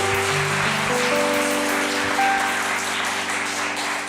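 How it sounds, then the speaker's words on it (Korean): A Korean church congregation at a Sunday worship service claps steadily at moderate volume, with soft sustained tones ringing underneath. "하나님께 영광의 박수 올려드립시다."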